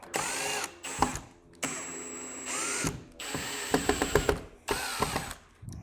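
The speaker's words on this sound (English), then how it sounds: "I like to tighten it up by hand just so we don't snap the screws in the back." Ratcheting clicks and brief mechanical whirring in separate bursts as TV mount screws are tightened by hand on a large 77-inch OLED wall installation, close and moderately loud with short pauses between.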